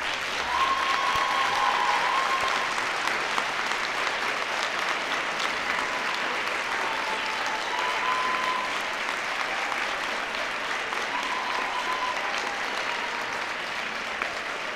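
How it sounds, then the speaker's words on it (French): Sustained applause from a graduation ceremony audience at a university arts faculty convocation, steady dense clapping throughout with no talk over it. "je vous invite à les applaudir chaleureusement."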